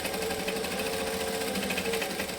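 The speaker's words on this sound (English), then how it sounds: "I'm just stitching within the seam allowance, joining up all the corners and all the edges" Sewing machine running steadily while stitching the seams of an Elvira bag, a continuous close, even mechanical hum lasting throughout without pauses.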